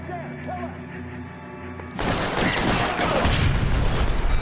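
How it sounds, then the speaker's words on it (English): A sudden blast in the video game L.A. Noire bursts in at about two seconds and gives way to a loud, sustained roar of rumbling debris and crackle. It follows a quieter stretch of tonal game ambience. "Что-то взорвалось."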